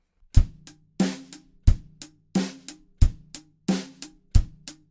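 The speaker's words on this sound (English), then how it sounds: "playing all eighth notes on the top of the hi-hat using the beat of the stick" A drum kit plays a groove at 90 bpm, with eighth notes tapped by the stick on top of a closed hi-hat, bass drum and snare alternating beneath, close and crisp with no talk.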